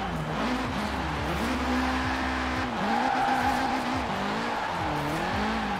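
A Honda Prelude in Forza Horizon 4 drives hard, its engine droning and shifting pitch as tires squeal and skid through corners, loud and continuous throughout.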